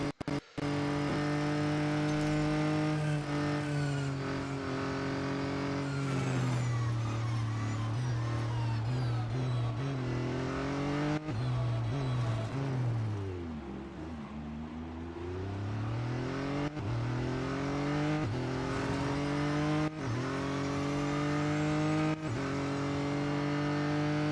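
Race car engine in the racing game Real Racing 3 roaring at high revs down a straight, pitch dropping sharply as it brakes and downshifts for a corner, then climbing again through repeated gear changes, loud and continuous with no talk.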